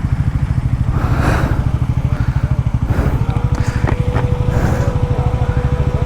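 Road traffic in Ladakh with motorcycles and cars passing: a loud, close engine putter with a rapid, even rhythm runs throughout, with faint clatter and a brief horn-like tone in the middle.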